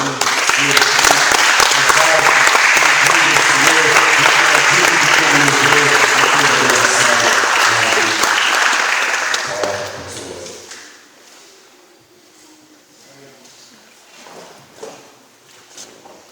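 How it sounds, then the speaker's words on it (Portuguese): Church congregation applauding after a prayer, a loud, sustained roar of clapping that runs for about ten seconds before dying away, leaving quiet room noise and scattered soft thumps. "Dê o melhor aplauso ao Senhor."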